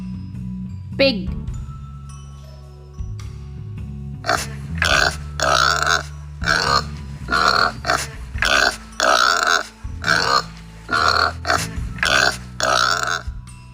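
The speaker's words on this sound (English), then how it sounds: "Pig." A rapid series of rough, guttural pig grunts, a dozen or so in an uneven rhythm, close and loud over light background music.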